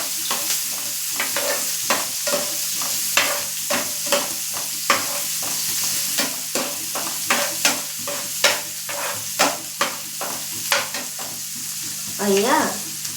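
A chopped onion fries in a pan for upma while a spoon stirs it, so regular scraping strokes sound over a constant close sizzle, with a louder clatter near the end.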